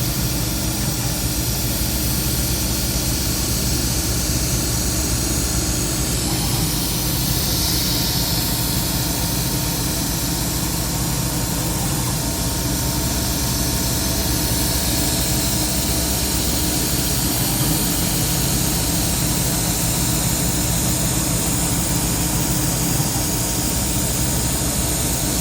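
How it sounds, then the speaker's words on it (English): A quiet air compressor running in a workshop beside a Rong Fu CNC mill conversion, a steady loud broadband hiss and hum that continues unchanged throughout, with no speech. "Quiet air compressor just kicked on."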